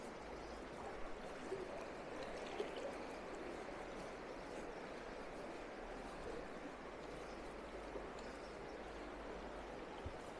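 A trout river flows past during fly fishing, a faint, steady rushing of water with occasional small splashes or knocks and no talking.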